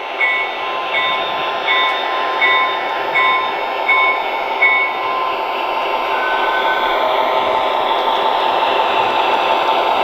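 A Lionchief 2.0 model train runs with electronic sound effects, a steady whirring motor hum with a repeated beeping chime pattern and faint higher tones layered on top.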